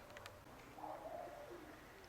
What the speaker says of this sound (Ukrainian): Голуби трошки прийшли на хату.